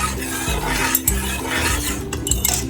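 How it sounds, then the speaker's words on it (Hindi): A utensil stirs yogurt into milk in a pot on a hot flame for zarda sweet rice, with repeated soft scraping and light clinks against the pan in a steady rhythm. "अब हम इसमें डालेंगे आधा कप योगर्ट दही का और अच्छी तरीके से हम इसको मिक्स कर लेंगे"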